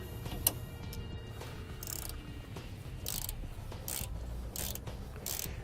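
A 1/4 inch Allen key and a 9/16 wrench work the bolt and nut on a Roadmaster Nighthawk tow bar. Close, dry ratcheting clicks come in short repeated bursts over a quiet background.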